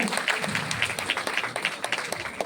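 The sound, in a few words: audience applause for the department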